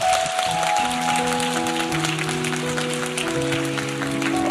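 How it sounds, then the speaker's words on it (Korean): A church congregation at a winter revival meeting gives a steady round of applause, with sustained keyboard or organ tones ringing out beneath the clapping. "우리 하나님께 영광의 박수를 드리겠습니다."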